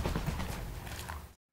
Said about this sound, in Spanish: Este es el sonido de un halcón volando.